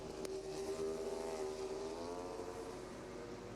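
Ducati MotoGP racing motorcycles screaming down the straight toward turn 1, a high revving engine wail rising then fading as bikes pass, heard at a distance under crowd and ambient noise.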